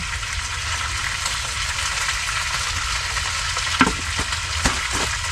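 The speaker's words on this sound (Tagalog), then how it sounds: "At niluluto ko nga yung chicken tosino." Chicken tocino frying in a pan: a continuous dense sizzle throughout, with a couple of sharper pops or clanks near the end, close and steady.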